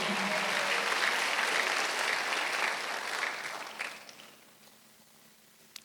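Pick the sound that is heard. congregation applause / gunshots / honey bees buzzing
congregation applause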